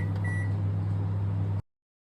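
A microwave oven cooking a mug cake hums with a steady low drone and a fan whir, brief beeps sound near the start, and then the noise cuts off abruptly into silence.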